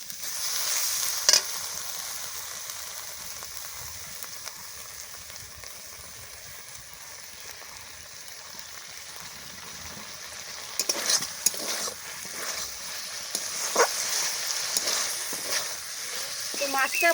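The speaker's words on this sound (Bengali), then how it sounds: "তারপর তেল দিয়ে ভেজে নিলাম" Food sizzles and crackles steadily in hot oil, a soft continuous frying hiss with a few louder clatters of stirring near the end.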